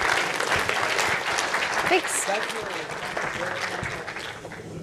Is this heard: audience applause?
yes